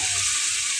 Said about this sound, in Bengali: আলুটা ছেড়ে দিলাম, আলুটা ভেজে নেব,